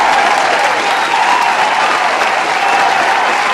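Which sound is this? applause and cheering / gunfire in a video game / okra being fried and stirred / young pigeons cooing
applause and cheering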